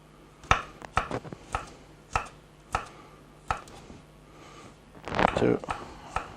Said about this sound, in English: So that's 4 cloves of garlic. Then we cut it in small slices, like we always do.